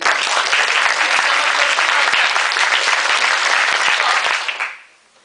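Audience clapping together during a clapping game at a college talk, a dense, loud burst of applause holding steady for over four seconds before stopping abruptly.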